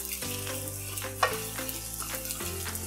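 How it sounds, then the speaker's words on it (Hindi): Small diced capsicum goes into a hot pan for Mumbai street-style tawa pulao, giving a close, steady sizzle with a brief sharp clatter as the pieces land, and stirring carries on underneath. "कैप्सिकम लिया है स्मॉल साइज का, उसको मैं डाल रही हूँ।"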